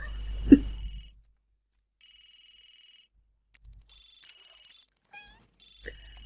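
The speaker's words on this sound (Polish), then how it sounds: "telefon wibruje" A phone rings in The Sims 3 video game, with short bursts of bright electronic ringing repeating in a clear pattern and brief other game chimes and chirps between them.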